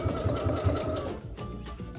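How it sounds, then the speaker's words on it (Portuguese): A sewing machine stitches a fabric money belt for Carnival, giving a loud, steady, close mechanical whir with a rapid needle rhythm that slows and changes tone near the end of the seam, with no talking. "E venho com a costura até o final da peça."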